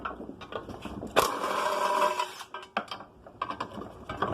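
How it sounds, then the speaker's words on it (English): A drill fitted with a 3/8 bit backs bolts out of a cast aluminum casing, a single loud whirring burst of about a second among close clanks, scrapes and mechanical clatter. "I got the 3/8 bit, and we're just going to tear these these 4 bolts out"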